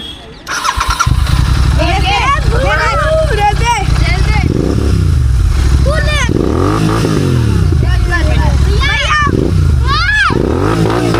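A Royal Enfield GT650 motorcycle fitted with an RRP exhaust starts up and revs hard in repeated loud bursts, close by, while children's excited voices and talk sound over the engine.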